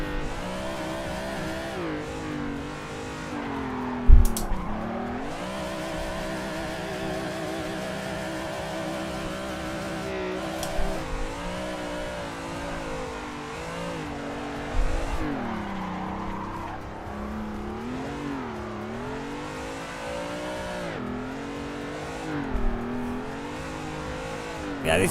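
A race car engine in Assetto Corsa revs hard and steadily for the whole stretch, rising and falling through gear changes, with a few bursts of tire squeal and skidding.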